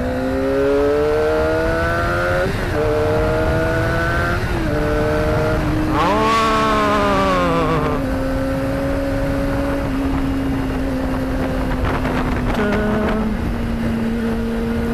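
A Kawasaki ZX25R four-cylinder motorcycle engine revs repeatedly, its high-pitched scream rising and falling through several gear changes, loud and close, with sharp throttle blips before settling into a steady drone.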